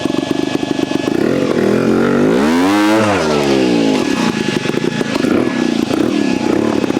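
Vertigo Nitro JBR 300 two-stroke trials motorcycle pulling gently up a very steep hill, engine loud and close with a rising and falling rev sweep mid-climb before settling back to a steady drone.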